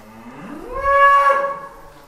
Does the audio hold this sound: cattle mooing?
yes